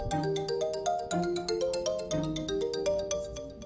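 A mobile phone lying on the ground rings with a bright, looping melodic ringtone, steady and fairly loud throughout, with no voices over it.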